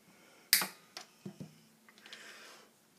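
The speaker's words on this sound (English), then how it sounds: "Nip off the excess." A Stratocaster guitar string is cut with a single sharp snip, followed by a few faint small clicks and light handling in a quiet room.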